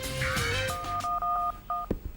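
A mobile phone number is dialed backstage at a comedy show: a quick run of about seven or eight crisp, evenly spaced keypad tones, each a short clear beep, with a faint voice and handling noise before them.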